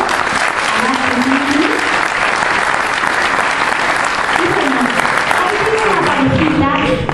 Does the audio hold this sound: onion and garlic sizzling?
no